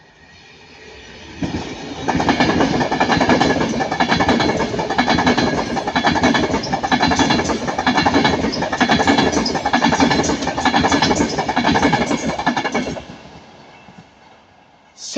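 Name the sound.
train 39128 City of Preston passing at speed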